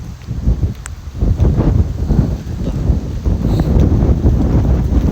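Strong wind buffets the microphone outdoors in loud, gusty rumbles that rise and fall without pause.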